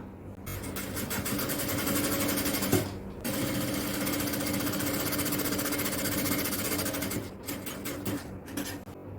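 A tailoring sewing machine runs a second line of stitching along the sleeve seam of an XL jalabiya, a steady rapid whirring drone that stops briefly near the start and again toward the end.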